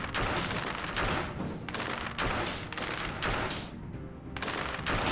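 Rapid gunfire from the action roguelike game Dead Cells, a dense continuous barrage of loud shots and thuds with a brief dip near the end, no talking.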